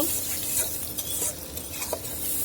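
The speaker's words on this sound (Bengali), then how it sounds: "পেঁয়াজটা একটু ভেজে নিব" Sliced onions fry in a little oil in a pan with a continuous moderate sizzle. Repeated scraping stirs of a spatula sound close by, and nobody speaks.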